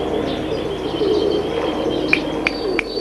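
Pigeons coo softly amid a steady outdoor background hum, with a few sharp high chirps toward the end and no voices.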